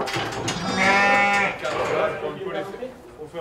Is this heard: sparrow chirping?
no